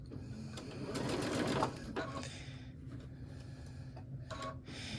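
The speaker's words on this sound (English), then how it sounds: "So I'm just going to stitch this closed." A sewing machine stitches a fabric basket closed in a steady rapid whirring run that stops after a moment, followed by quieter handling sounds and a brief restart.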